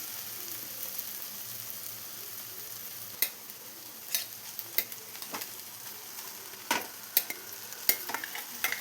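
Cooked rice is stir-fried with egg masala in a pan: a soft continuous sizzle broken by repeated sharp spatula scrapes and taps.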